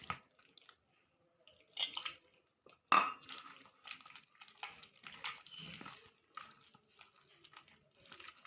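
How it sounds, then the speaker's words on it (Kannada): Water is poured into a bread baji mixture, giving intermittent splashing and wet stirring sounds with a sharp utensil knock, close up and moderately loud, without speech. "ಇನ್ನೊಂದು ಸ್ವಲ್ಪ ನೀರು ಹಾಕೋತೀನಿ ನೋಡಿ."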